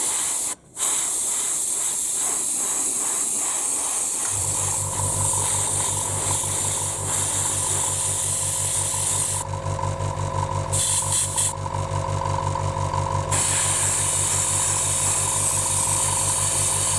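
Aerosol can of metal colour shift paint sprays a second coat in a steady close hiss, with two brief bright bursts of spray near the middle over a constant low hum.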